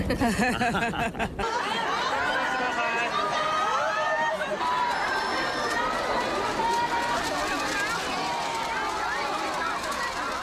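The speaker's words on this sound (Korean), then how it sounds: "가는 곳마다 쏟아지는 환호와 열광." Crowd cheering for Emperor Akihito, a dense wash of many excited voices, shouts and laughter close and loud throughout, with people talking within it.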